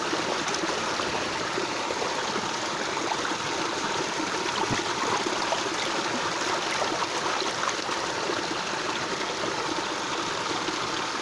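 A river flowing steadily beside a gold panning spot, with a continuous close rushing and trickling of water and no other sounds.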